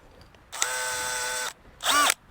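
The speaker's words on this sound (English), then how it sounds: "I do not really need my power planter, my auger here, but if you go real slow" A power planter auger drills a hole in a container for tulip bulbs: one steady loud whirring burst of about a second, then a brief pause and a second short, rising-and-falling whine, with no talk.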